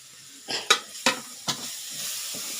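Chopped capsicum sautés in a pan with partly cooked vegetables for veg macaroni, a soft sizzle broken by four sharp scraping stirs of a spoon about every half second, close and quiet, with no talking.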